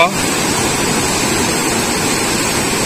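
Floodwater after heavy rain pours over the Sri Rangarajupalli bridge in Hindupur, a loud, dense, continuous roar of rushing water close by.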